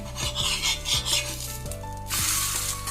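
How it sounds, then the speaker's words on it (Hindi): A mooli (radish) cheela is flipped on a pan greased with ghee: rhythmic rasping spatula scrapes against the pan, followed by a brighter burst of close sizzling once it turns over. "ये बहुत आसानी से पलट जाता है, चिपकता भी नहीं है"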